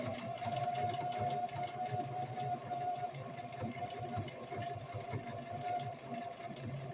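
A sewing machine runs a stretch stitch on a wool diaper cover, a steady, rapid mechanical whirring at moderate volume throughout, with no talking.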